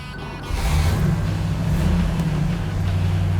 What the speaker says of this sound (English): how about I go ahead and start it for you?